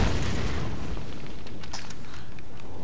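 An enemy blows up in the Tomb Raider video game, a loud booming explosion burst at the start that rumbles and fades over a few seconds, with no talk over it.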